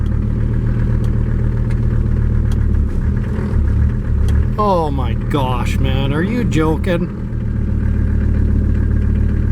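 An old scrapyard Mercedes engine idles with a loud, steady low rumble that runs the whole time, while a man exclaims over it partway through.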